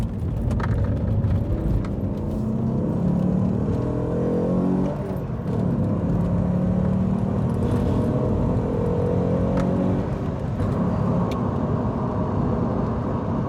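An Alfa Romeo GTV 3.2 'Busso' V6 engine drones steadily as the car drives, its pitch rising and falling through gear changes, with some wind and road rumble mixed in.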